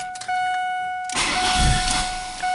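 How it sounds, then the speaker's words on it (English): A misfiring Ford Focus engine cranks and catches after a brief quiet stretch, then roars up in a rough, uneven rev, loud and close with no talk over it. "keep revving it to keep it running"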